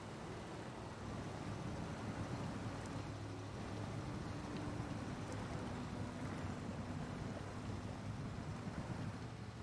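Off-road vehicle in low gear with diff lock crawling through very thick mud in a video game, a low continuous rumbling churn with broadband wash, steady and moderately quiet throughout.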